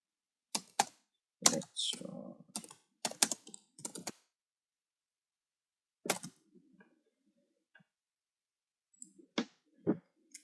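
A computer keyboard is used to type a query, heard as sparse bursts of close key clicks separated by quiet gaps, with a brief soft spoken word partway through.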